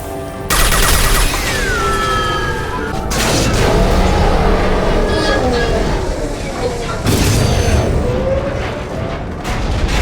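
Sustained gunfire aimed at a tube in Mass Effect 2, with rapid bursts of shots, heavy booming impacts and metallic whines over loud combat noise, with voices talking over the fighting.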